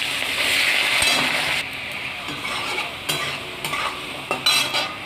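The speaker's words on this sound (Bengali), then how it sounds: "ওই কড়াইতেই আমি তেল আর ঘি দিয়ে একবারে ফোড়ন সাদা জিরে গোটা গরম মশলা আর দুটো কাঁচা লঙ্কা একটু তেজপাতা দিয়ে আলু ছোটো ছোটো করে কেটে রেখেছি এই আলুগুলোর মধ্যে ভেজে নেবো" Small cut potato pieces fry in oil and ghee with cumin, whole garam masala, green chillies and bay leaf in a kadai, giving a steady close sizzle with scraping stirs and occasional utensil clinks.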